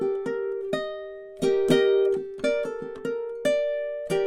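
A ukulele plays two measures of a spooky fingerstyle song, with plucked single notes and ringing chords in a steady, unhurried rhythm, close and clear with no talking.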